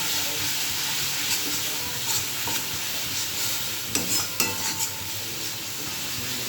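Turmeric, chilli, cumin and coriander spice paste sizzles steadily while stir-fried in a pan for a potato and pointed gourd dish, with a few sharp clanks of a spatula against the pan.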